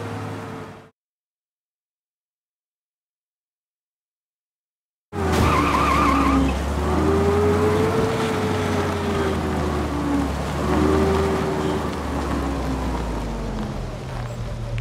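In Mafia Definitive Edition, a car engine roars loudly after a short silence, with long tire squeals and skids rising and falling as it drives hard, steady and close throughout.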